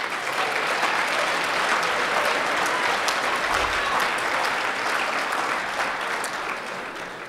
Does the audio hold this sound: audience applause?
yes